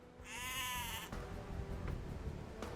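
A sheep in the video game Age of Empires II: Definitive Edition gives one clear wavering bleat, followed by soft game ambience with small clicks.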